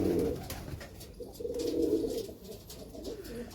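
Racing pigeons kept for pigeon flying coo in low rolling bursts nearby, two or three clear phrases against a steady background.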